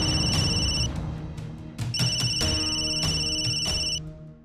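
A telephone rings indoors in a repeating electronic ringtone pattern, loud and close, with bursts of bright tones over a low background murmur and no talking.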